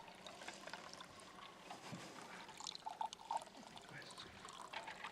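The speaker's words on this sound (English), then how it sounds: "You gonna pour some water?" Water being poured into a glass at a live stage event, a soft liquid pour with faint trickling, heard quietly beneath low murmuring voices and room noise.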